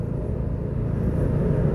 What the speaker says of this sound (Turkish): İşte görün arkadaşlar, İzmir'in trafiğini.